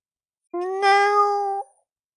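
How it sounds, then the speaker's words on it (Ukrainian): A single drawn-out plaintive cat meow, clear and close, lasting about a second in an otherwise silent room. "Наступного ранку я гучно зітхав і жалібно нявкотів."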